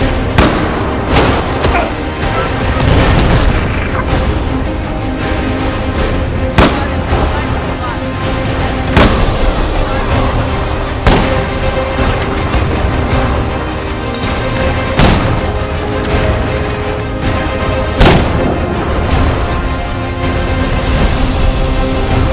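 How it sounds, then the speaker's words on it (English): Bolt-action L96A1 sniper rifle shots in Battlefield 4, heavy booming reports at irregular intervals over continuous dense battle noise, with someone talking throughout. "The L96A1 is a bolt-action sniper rifle for the Recon class"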